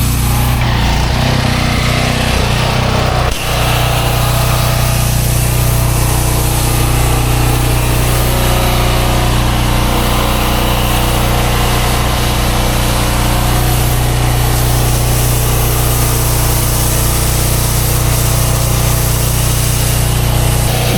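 Pressure washer running a downstream injector while flooding water into a crack on a residential job in Kissimmee, Florida: a loud, steady engine drone with a constant hiss of spray, with a short shift in tone early on, continuing unbroken throughout.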